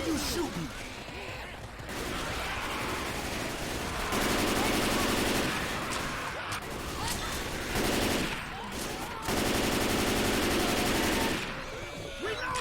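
Sustained bursts of gunfire from shotguns in the zombie shooter Left 4 Dead 2 roar in dense, overlapping stretches, loud and continuous, while players talk and laugh over the shooting.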